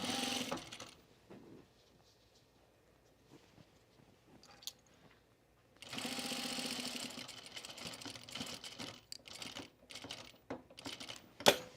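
A sewing machine stitches along the edge of a dress being remade, running in a loud rapid burst after a quieter stretch of small handling noises, with brief stops and restarts.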